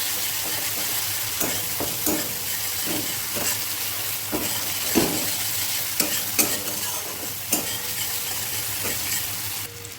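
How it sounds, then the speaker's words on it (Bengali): Spice powder is stirred into a tomato masala frying for a paneer dish, with a constant hiss of sizzling oil and repeated scraping, clacking strokes of a spatula against the pan. "এবার ভালো করে একটু মিশিয়ে নেব।"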